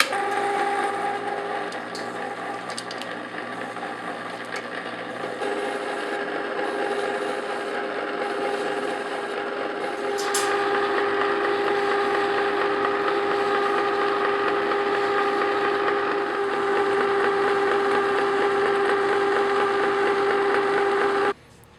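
An ice cream machine churns a malai kulfi mixture as pistachios are added, giving a loud, steady mechanical drone with a constant whine that runs for over twenty seconds before cutting off abruptly.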